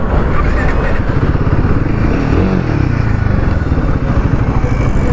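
A Royal Enfield Himalayan 450 motorcycle runs loud and close, its 450cc engine giving a rough, continuous chugging rumble with an uneven knocking texture, with no talking.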